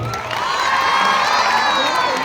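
A crowd cheering and clapping loudly at an Independence Day event, with shouts and whoops rising together in a sustained burst.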